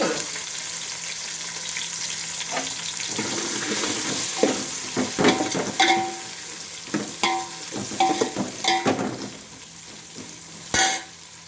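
Chopped onions and bottle gourd pieces fry in a pan, giving a steady close sizzle broken by repeated scraping and clattering stirring strokes.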